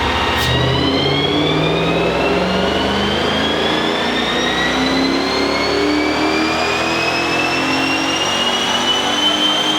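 A Lexus IS300 with a swapped 3UZ V8 engine revs hard on a dyno, a loud, continuous engine roar climbing steadily in pitch as it pulls through the gears, close and unbroken for the whole stretch.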